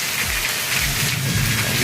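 Heavy rain pours down in a dense, steady roar of drops hitting surfaces, loud and unbroken throughout with a faint low rumble underneath and no voices.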